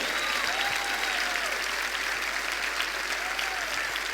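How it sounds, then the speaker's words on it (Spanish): A church congregation applauding during a Spanish-language sermon, dense continuous clapping filling the hall at even loudness, with faint whoops rising above it. "¿Cuánto le da un aplauso al Rey de Reyes,"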